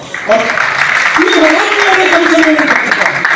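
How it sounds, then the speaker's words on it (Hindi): Audience applause fills a hall at a Hindi kavi sammelan poetry gathering, a dense continuous clapping crowd heard close and loud, mixed with a speaker's voice over it. "आप लोग तालियां बजा रहे हैं"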